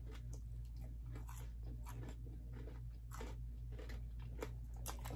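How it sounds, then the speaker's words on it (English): Close-up crunching bites and chewing of hard-fried fish, a string of crisp crackles repeating over several seconds, quiet and near with no talking. "Y'all hear that crunch?"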